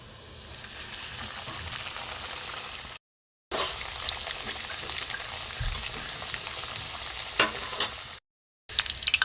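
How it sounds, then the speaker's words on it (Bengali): Carrot prawn pitha sizzles and bubbles steadily in hot frying oil, a close, continuous crackle broken by two brief silent gaps, with occasional stirring or turning sounds and no talking. "দেখুন পুরো চিংড়ি উল্টোপাল ভেজে নেব"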